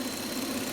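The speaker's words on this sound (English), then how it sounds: "So as I'm increasing my engine RPM" Hyundai Sonata engine with a crankshaft sensor fault and hesitation, running steadily with a dense, buzzing mechanical drone throughout a brief moment, close and constant.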